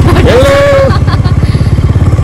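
Three motorbikes ride in a group on the way to Biring Khola in Jhapa, Nepal, giving a loud, close, throbbing engine drone with rapid pulsing; a voice briefly rises over it.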